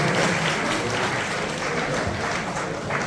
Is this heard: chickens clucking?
no